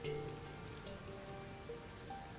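Steady rain pattering on surfaces in the video game Master Detective Archives: Rain Code, a continuous even wash of drops with faint tonal game music beneath and no voices.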